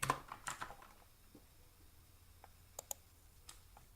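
Quick keystrokes on a computer keyboard during an Arch Linux install, faint and close: a fast cluster of clicks, then a few scattered taps.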